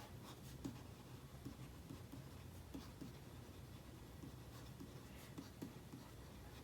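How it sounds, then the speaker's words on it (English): A stylus scratching on a reMarkable 2 tablet screen while writing, with faint, quiet, close strokes repeating in an irregular rhythm. "You hear that scratch? That's so beautiful."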